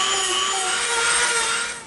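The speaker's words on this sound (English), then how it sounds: "we've got the beast here, the super rough sandpaper bit, and we're gonna get in here and we're gonna take about a half an inch out all the way around" A rotary tool fitted with a very rough sandpaper bit whines at high pitch while grinding into EVA foam, producing a close, steady, abrasive rasp that tapers off at the end of the brief burst.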